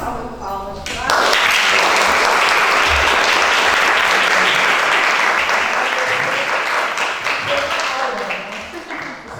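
A brief voice gives way to a sudden burst of loud, sustained applause from a lecture audience, which holds steady before slowly thinning toward the end.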